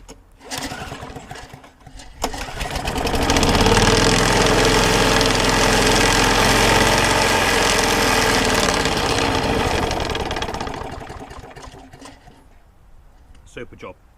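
A Hayter Hayterette lawn mower engine, missing one blade and shaking badly, runs loud and close with a steady, rough drone that swells after a few seconds, holds, then fades away.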